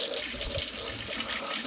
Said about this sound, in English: just run super stupid hot water over it